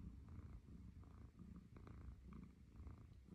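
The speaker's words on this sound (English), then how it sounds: "What's that purr purr purr purr?" A house cat purrs softly and close by, a steady, rhythmic rumbling pulse that runs throughout, quiet and alone with no talking.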